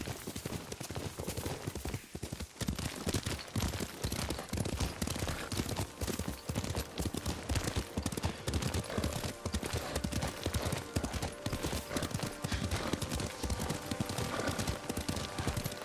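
Horse hooves clip-clop at a steady riding gait in the samurai action game Ghost of Tsushima, the rhythmic thuds continuing throughout over a dense bed of game ambience.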